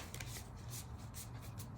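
A Tongue of the Mother tarot deck is shuffled by hand, a close run of soft papery riffles and rubs in quick bursts, with no voices.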